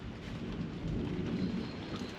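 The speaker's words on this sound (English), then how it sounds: "And suddenly it is raining." Sudden rain with thunder in Australia: a steady, fairly quiet wash of rain on surfaces, with a low rumble of thunder rolling beneath it, heard without any talk.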